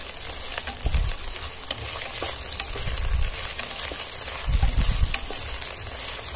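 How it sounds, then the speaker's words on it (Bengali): Chopped capsicum and tomato fry with asafoetida in hot oil, a steady broadband sizzle with a few louder bursts as the vegetables are moved, no voices. "ক্যাপসিকাম আর টমেটো দিয়ে একটু বেশ কিছুক্ষণ ভেজে নেব।"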